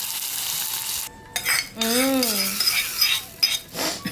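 Asafoetida tempering sizzles in hot oil for a burnt brinjal curd dish, stirred with a spoon. A crackling fry with short pauses, a brief tonal whine and light metallic clinks.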